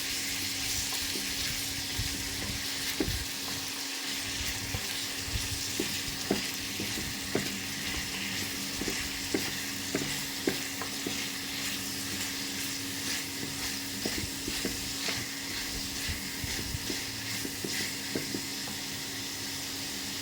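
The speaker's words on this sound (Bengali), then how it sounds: "এখন পেঁয়াজ রসুন আদা দিয়ে দিলাম।" Onion, garlic and ginger fry with potatoes in hot oil, making a loud, continuous sizzle close up. Frequent small pops and occasional stirring clicks sound throughout.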